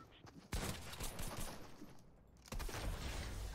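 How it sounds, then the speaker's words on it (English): A harpoon gun fires in a Fortnite arena match, two loud abrupt blasts, each followed by a dense roaring burst of game effects under a noisy mix with no clear talk. "Harpoon gun for the finish, bro!"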